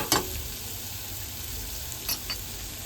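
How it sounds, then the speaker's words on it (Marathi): Onion sautés in masala in a pan for an oyster masala dish, giving a constant even sizzle with a sharp scrape of the spatula at the start and a couple of softer stirring knocks near the end. "हा कांदा मस्त मसाल्यामध्ये परतून घ्यायचा आहे"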